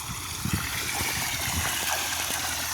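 Water from a pump pipe gushes and splashes steadily onto a farm field, a loud continuous rushing flow close by with gurgling bursts.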